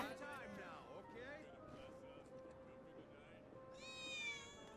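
Cat meows ring out in Final Fantasy VII Remake, several drawn-out calls in a row over a steady game music and ambience bed, ending with a brighter, higher cry; a player talks over part of it.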